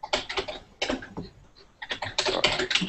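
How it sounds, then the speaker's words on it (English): Loud computer keyboard being typed on in bursts of rapid clacking keystrokes, close and dry, with a short pause in the middle and no voices over it. "I think we're hearing your keys on the keyboard"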